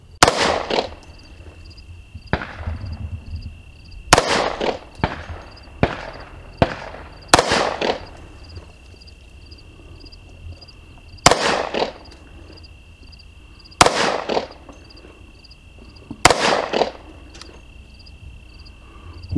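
Sharp gunshots from a 10mm STI pistol fired from a Ransom multi-caliber steady rest at a range, about nine loud reports spaced a few seconds apart, with a steady insect-like hum underneath.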